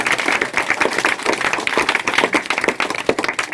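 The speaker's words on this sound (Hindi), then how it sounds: "इसके लिए जोरदार ताली से आप लोग स्वागत करेंगे।" A crowd at a school prize-giving ceremony claps loudly and steadily to welcome a student, with dense, continuous applause throughout and no talk over it.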